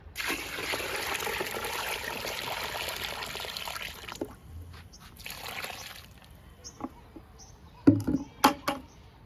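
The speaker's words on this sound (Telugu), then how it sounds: "నిండుగా పోస్తున్నా." Water pours and trickles steadily into a container of groundnut oil cake for plant liquid fertilizer, then stops, followed by a few sharp knocks and clatters nearby.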